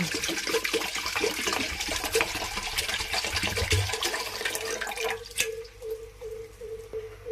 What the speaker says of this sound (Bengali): এখানে আমি গ্যাস অন করে জলটা দিয়ে দিচ্ছি।